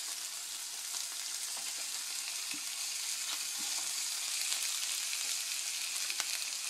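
Food sautéing in a pan for a simple Christmas Eve dinner, heard as a constant close frying hiss with faint scattered pops and ticks and no voices.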